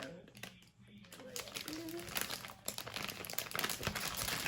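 A large zip-top plastic storage bag is handled and unzipped up close, giving off loud crinkling and rustling with crackly bursts. A voice can be heard faintly beneath it.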